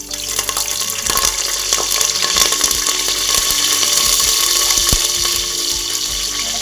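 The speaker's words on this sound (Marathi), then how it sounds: "जिरे आणि मोहरी घालूया" Cumin, mustard seeds and curry leaves sizzle loudly in hot oil for a black eggplant dish, a dense steady hiss scattered with sharp crackles and pops, close up and without speech.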